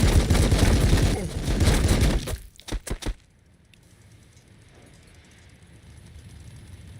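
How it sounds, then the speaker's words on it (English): Storm cannons in the strategy game Warhammer 40K Battlesector fire a loud rolling volley, then a few sharp cracks before the barrage cuts to quiet background ambience. "Let's hit these storm boys with the storm cannons here."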